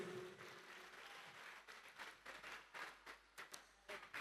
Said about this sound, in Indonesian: Sekali lagi tepuk tangan untuk Ibu Sri.